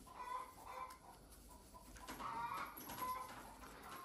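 Chickens and roosters cluck and call faintly in the background of a rural yard, with scattered short calls over a quiet, hissy backdrop.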